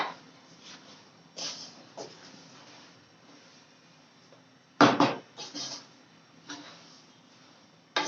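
A spoon works through besan halwa and sugar roasting in a pan, giving soft, intermittent scrapes with a sharper metallic clatter midway, fairly faint and close.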